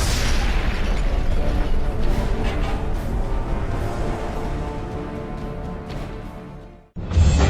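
A nuclear weapon detonates in a video game, a huge sustained roaring blast that rumbles on for several seconds and fades, then a fresh loud burst cuts in at the end.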